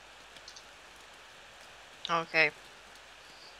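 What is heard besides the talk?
rain falling in the video game Corpse Party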